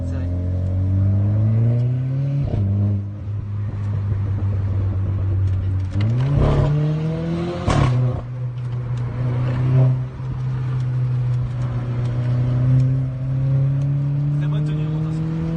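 A Renault Clio 4 RS fitted with an aftermarket exhaust line drones steadily from inside the car, climbing through gears with two quick shifts and a sharp pop, while people talk over the engine note.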